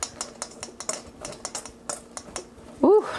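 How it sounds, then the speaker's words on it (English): A whisk beats a mixture with fresh orange zest in a bowl, giving quick, regular tapping clicks in a steady rhythm, close up, followed by a short voiced sound at the end. "I will just whisk this together again."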